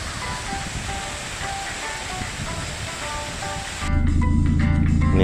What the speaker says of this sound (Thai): นี่ก็คือน้ำตกเหนือนรกครับ